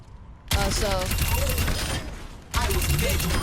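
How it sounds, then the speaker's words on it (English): Orisa's primary fire in the video game Overwatch 2 shoots as a continuous, rapid stream of projectile shots, loud and close, running in two long bursts separated by a brief pause, with someone talking over it. "We have Orisa's primary fire."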